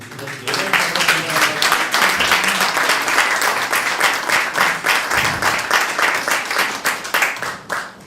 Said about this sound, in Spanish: le damos un aplauso nuevo a este señor